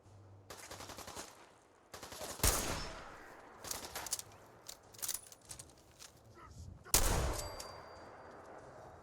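Several sharp, separate blasts from an upgraded shotgun in Fallout 4 ring out at irregular intervals, each followed by a brief tail, with quieter game sounds in between.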